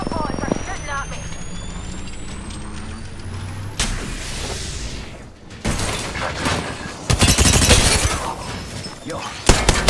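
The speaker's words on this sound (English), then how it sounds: "Bad boys are shooting at me." Gunfire in the battle royale game Apex Legends, loud bursts and impacts hitting in clusters across the mix, with game effects, a rising whine and player speech running throughout.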